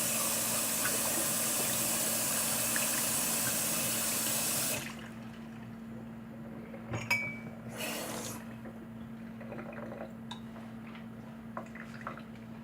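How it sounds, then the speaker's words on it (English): A kitchen tap runs while hands are washed under it, a steady close rush of water for about five seconds that cuts off abruptly, followed by quieter drips and a few faint glassy clinks. "So let me wash my hands."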